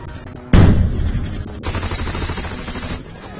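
Machine-gun and mortar fire in a WWII river-crossing battle on the Rapido, a sudden loud blast followed by sustained crackling bursts of automatic fire, heavy and close, with no voice over it.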